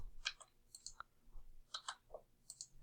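A computer mouse clicks a few times to save settings in an order and invoice program, sharp quiet taps spaced irregularly over a low background hum, with no talking.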